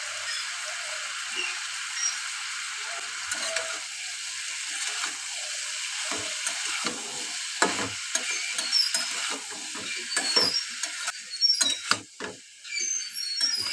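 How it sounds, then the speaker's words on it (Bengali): Potato and tomato frying in a pan with cumin, turmeric and salt, giving a steady close sizzle with soft scraping stirs and some sharper clicks toward the end, no talk. "সুন্দর করে ভেজে নেব।"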